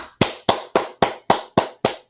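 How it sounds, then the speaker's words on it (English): A single person clapping bare hands alone, eight sharp, evenly spaced claps close to the microphone with brief silence between each. "Don't have my hand clappers, but I just clap my hands myself."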